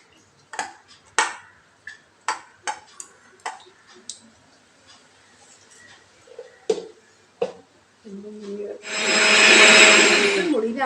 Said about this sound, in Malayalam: ഇതെല്ലാം കൂടി മിക്സിയിലടിക്കാം